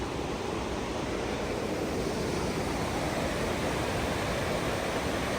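Sols Creek Falls running at higher than normal flow after recent rains, a massive, steady broadband roar of falling water, loud and unbroken throughout with no voices.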